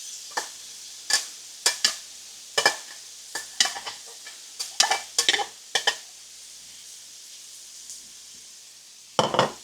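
Ribeye steak meat stirred in a hot pan, with a string of sharp scraping, clattering stir strokes over a soft background sizzle, fairly close, with no voices.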